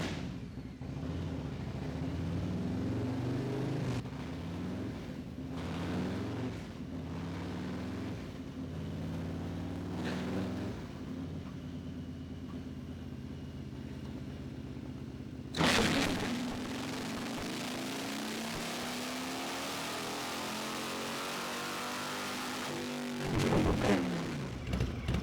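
A motorcycle engine runs on a dynamometer after its exhaust has been coated, a steady loud drone with rising harmonic sweeps as it revs, a sharp throttle burst midway, then a sustained high-rev pull and a final blip.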